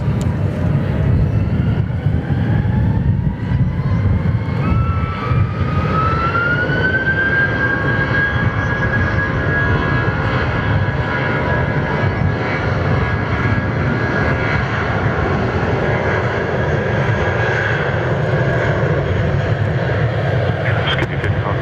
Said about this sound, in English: This A320 is former Jetstar as well, VQS